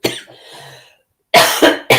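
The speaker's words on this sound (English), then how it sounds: "It's just apologies for the coughing still." A few sharp coughs: one short cough, a softer breathy pause, then two forceful coughs close together near the microphone.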